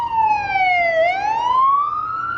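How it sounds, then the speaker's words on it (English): A police siren wails close by, its pitch sweeping down then climbing back up in one smooth cycle. "I got a police car coming."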